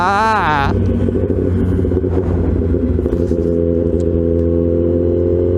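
A Kawasaki ZX10R big bike engine rises in a quick rev at the start, then settles into a steady, loud, throaty drone that runs close and continuous to the end.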